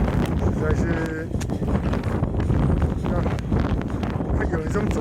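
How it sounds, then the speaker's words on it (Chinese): Strong blizzard wind at the Ishiuchi Maruyama ski resort in Echigo-Yuzawa, Japan, buffeting the microphone as a constant low roaring rush in gusting waves while people talk over it. "风真的太大了，很多人都直接在这里停。"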